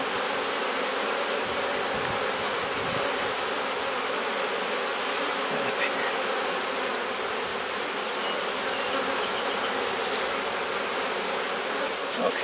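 A dense, steady buzz of many honey bees swarming around a hive frame, close and continuous, with no voices.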